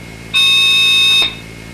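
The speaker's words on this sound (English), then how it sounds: "This is what a pink noise tone would sound like." A single steady electronic telephone-line tone sounds for about a second, loud and close, starting and stopping abruptly against faint background hiss.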